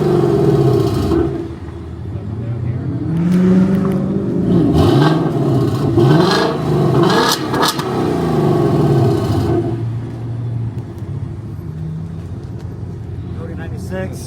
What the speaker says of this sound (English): let's give it a little rev start, or a remote rev